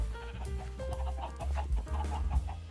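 Chickens clucking in the Minecraft video game: a cluster of short, close, fairly soft clucks repeating in quick irregular bursts, with no voices over them.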